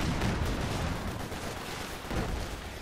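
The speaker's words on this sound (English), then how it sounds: "An anti-tank gun." Anti-tank gun fire from the video game Company of Heroes 2, a dense, continuous rumble of battlefield blasts and shots at steady loudness, with a heavier swell near the end and no talk.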